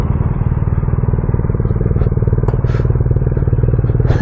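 A Triumph motorcycle engine idling and running at a group ride meetup, a loud close steady rumbling exhaust pulse with rapid even firing, plus a few brief clicks and clatters over the top.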